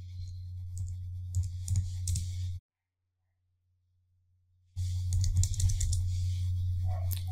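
Computer keyboard typing and mouse clicking while working in Mozaik design software: quick clustered key taps over a steady low hum, cut by a silent gap of about two seconds before the tapping resumes close by.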